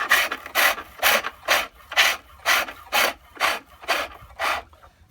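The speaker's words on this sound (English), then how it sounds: "Spindle gouge." A spindle gouge cuts wood on a pole lathe, making about ten rhythmic rasping strokes in quick succession as the treadle drives the work back and forth, close and fairly loud.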